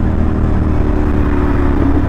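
CFMoto NK450 motorcycle fitted with a budget SC Project copy exhaust, idling and revving with a steady, loud low rumble close by, no talking.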